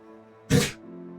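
A dog gives a single short sneeze in a wizarding-school video game, a sudden breathy burst that cuts through a quiet bed of soft background music.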